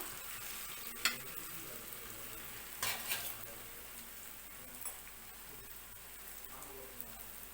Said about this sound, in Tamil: அதுக்கப்புறம் அதை வந்து நம்ம எண்ணெயில் ஃப்ரை பண்ணிக்கலாம்